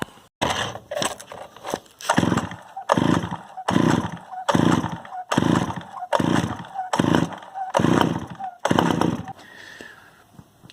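A Pioneer P25 chainsaw's small engine is pull-started repeatedly. About ten loud, rhythmic bursts of cranking and sputtering are separated by short pauses, as if the engine is close to catching but never settles into running.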